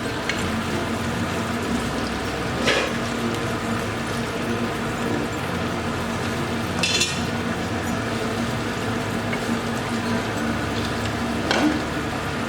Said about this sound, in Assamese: ব্ৰইলাৰে বনাইছোঁ ব্ৰইলাৰেও ভাল হয় এইদৰে মাংসখিনি কিন্তু অলপ ভালদৰে ভাজিব লাগিব